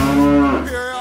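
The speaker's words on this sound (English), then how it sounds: "Steve, is that a cow?" A cow gives one loud, close, drawn-out moo that swells and then fades, alone with no talking.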